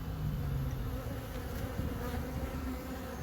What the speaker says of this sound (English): The amount of bees that are in that hoover is insane, and look how many are still here.